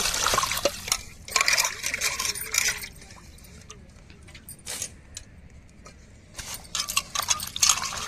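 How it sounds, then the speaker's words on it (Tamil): Small fish pieces are rinsed and rubbed with salt in water, giving close, irregular splashing, sloshing and clinking sounds in short bursts with quieter gaps between them. "இப்போ நம்ம நல்லா அலசி உப்பு போட்டு உரசி அலசி எடுத்துக்கிறோம்"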